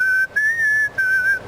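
A person whistles the melody of a rock song, a clear, close, pure tone in three short phrases with brief pauses between, alone without talking.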